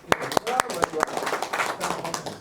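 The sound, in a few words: audience applause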